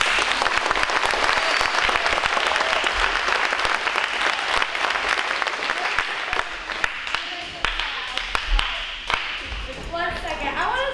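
An audience applauds at a school event with eighth graders performing, sustained dense clapping filling the whole stretch at steady loudness, with a few sharper claps and a voice briefly audible near the end.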